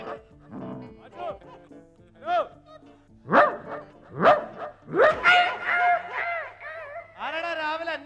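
A dog barks and yips in a run of sharp, repeated calls during a Malayalam stage comedy show, loud and close, with rising pitched bursts that may be partly voiced imitation amid speech.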